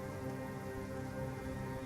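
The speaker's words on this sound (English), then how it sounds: "It's raining, dark, and damp and cold." Rain falls steadily on surfaces in a dark, cold, damp night scene, a constant even hiss with no break.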